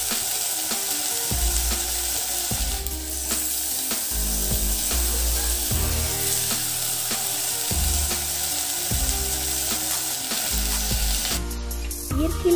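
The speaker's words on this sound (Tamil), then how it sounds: "இப்போ நம்ம சுத்தம் பண்ணி வச்ச காளானெல்லாம் வெங்காயத்து கூட போட்டு வதக்கி விட்டுருவோம்" Cleaned wild mushrooms sautéing with onions in a pan, a continuous close sizzle layered over a rhythmic low mechanical drone, with a sharper clatter at the very end; nobody speaks.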